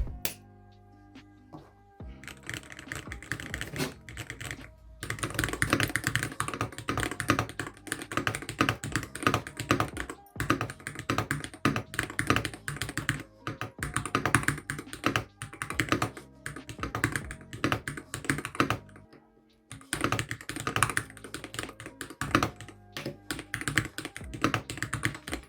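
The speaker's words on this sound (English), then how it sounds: "the typing sound and quality are pretty good for a Hall effect keyboard" Steady typing on a Womier SK75 TMR Hall effect gaming keyboard with a heavy aluminum case, continuous close clacking keystrokes in bursts with a couple of brief pauses, no talk.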